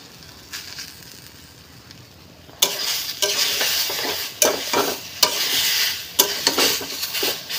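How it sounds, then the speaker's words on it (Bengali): A chilli mix dry-roasts in a kadai: faint at first, then loud, close scraping stirs and crackling sizzle sweep in with repeated strokes and sharp accents. "তার জন্য আমি আর একবার কড়াইতে দিয়ে ভালো করে শুকিয়ে নিচ্ছি।"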